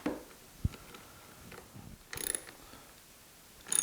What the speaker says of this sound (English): And now I'm just going to use these ordinary ratchet clamps.